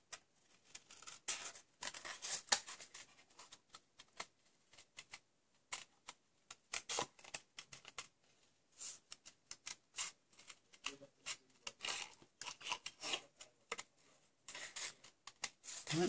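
Scissors fussy cutting around a paper flower basket design for a papercraft project, heard as many quiet, irregular snips and rustles with pauses, close up and alone.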